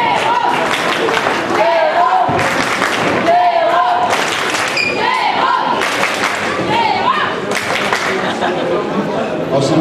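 Applause and crowd chatter on a Jeff de Bruges podium stage in 2009, steady clapping mixed with voices and occasional thumps, loud and continuous throughout.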